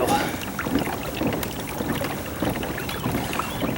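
A Hobie Tandem Island kayak under sail on a lake, with steady rushing water and wind noise against the hull, close and continuous throughout, no voices.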